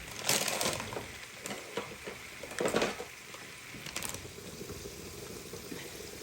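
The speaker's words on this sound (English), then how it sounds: "add a half a bag of our pasta to the water it is boiling" Dry pasta pours from a bag into a pot of boiling water, giving a few crackling, rustling bursts over a steady bubbling hiss.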